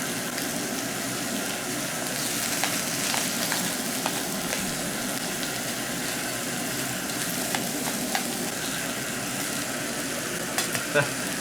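Aussie sausages frying in a fry pan in a garage, a steady full hiss of sizzling fat with occasional pops and crackles, close and continuous with no talking.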